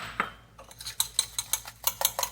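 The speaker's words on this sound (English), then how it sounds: "Mix that up with the eggs." A utensil whisks milk and eggs together in a bowl, giving quick, rhythmic clinking taps against the bowl's side, about a dozen close strokes in a steady beat.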